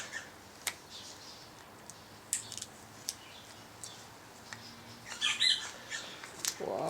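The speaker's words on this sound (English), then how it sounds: "I don't know how many different types of birds we get around here." Wild birds squawk and chirp in the background of a quiet outdoor spot, with scattered short calls building to a busier burst of squeaks near the end and no talking.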